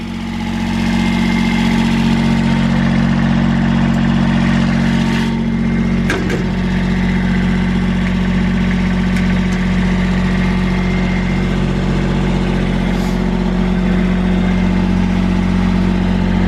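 A Kubota machine's engine idles steadily while warming up, a loud, continuous low rumble with a constant hum and no talking, with a brief clank partway through.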